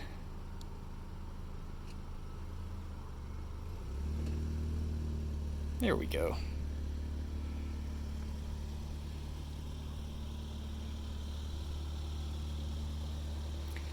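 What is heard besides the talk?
2020 Hyundai Sonata starting and moving itself via Smart Park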